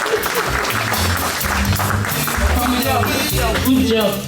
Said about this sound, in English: give a hand of applause again to Uncle Jay and his team